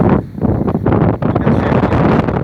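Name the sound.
wind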